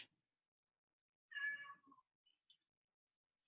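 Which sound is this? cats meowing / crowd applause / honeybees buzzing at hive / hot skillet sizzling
cats meowing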